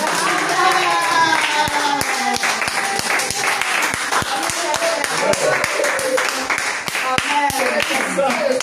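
A church congregation claps rhythmically and continuously in praise of the Lord. The sharp, even beat goes on throughout, with singing and voices mixed in underneath.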